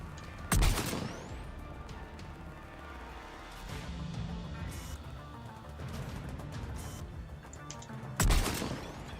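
Sniper rifle fire in the video game Mass Effect: two loud, sharp single shots several seconds apart, with a low rumbling ambience between them.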